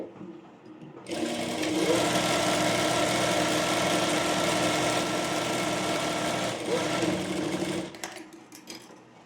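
A sewing machine stitching a layered frill frock runs in one steady, loud, continuous whir for about seven seconds, starting abruptly and stopping near the end, with quieter handling noises before and after.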